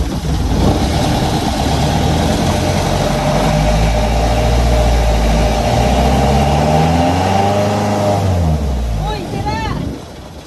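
A boat engine at sea drones loudly and steadily close by for about ten seconds, a low throbbing hum that fades out near the end.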